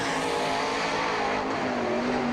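A sprint car, number 88, runs a qualifying lap at an All Star Circuit of Champions dirt-track race in Hartford, Ohio, its engine a loud, steady, high-pitched howl that holds throughout.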